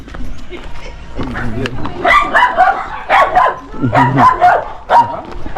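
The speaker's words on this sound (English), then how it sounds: "There's dogs." Several dogs bark from neighborhood yards in Trinidad, a scattered series of sharp barks and yips, fairly close and loud, mixed with bursts of speech.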